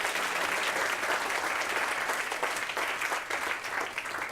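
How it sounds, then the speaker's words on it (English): Steady, dense applause from an audience at a book launch, loud and continuous throughout with no talk over it. "Could we give Rama a big round of applause"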